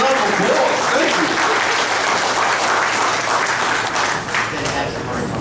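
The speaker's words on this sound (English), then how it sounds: "Give him a round of applause." Loud, dense audience applause fills a junior police academy graduation ceremony in Jersey City, New Jersey, sustained clapping from a large crowd with some voices mixed in, easing slightly near the end.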